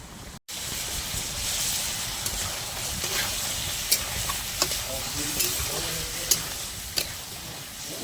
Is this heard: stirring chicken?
yes